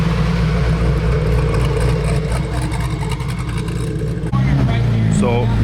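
Hennessey Venom F5 hypercar engine idling and revving loudly up close at an upscale car gathering, a steady deep rumble that swells near the end, with people talking over it.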